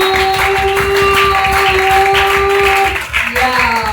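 A church congregation claps in a steady rhythm, with sustained organ or keyboard tones and voices over it, loud and close throughout.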